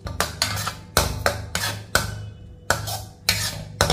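Radish paste being sautéed in a pan, with a series of sharp, close scraping and clanking strokes of a utensil against the pan at an irregular rhythm, each followed by a short sizzle.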